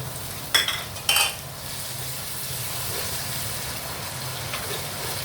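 Ginger and garlic fry with browned onions in a pan, giving a soft, steady hiss, with two sharp clinks of a utensil early on.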